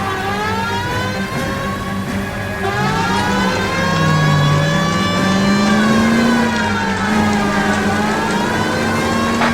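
A car engine revs and strains during a police chase in the video game L.A. Noire, its pitch rising and falling steadily over nine seconds, loud and close with no speech.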